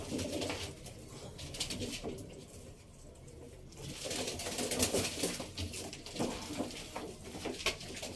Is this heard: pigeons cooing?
yes